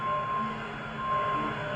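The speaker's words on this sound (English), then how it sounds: "Yeah, the beeping. I got a truck backing up." Reversing beeper of a backing truck, a steady electronic tone pulsing on and off over continuous mechanical background rumble, with no talk.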